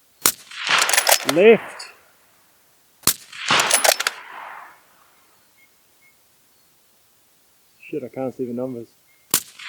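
Three sharp gunshots fired during stress testing, spaced apart across the stretch, with someone talking in bursts between the reports.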